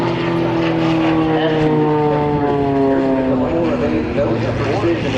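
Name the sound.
aerobatic propeller airplane flying at Oshkosh airshow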